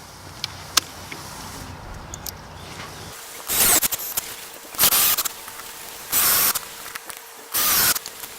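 A power drill drives screws into vents being fitted on a boat, giving four short whirring bursts about a second long with brief quiet gaps between them.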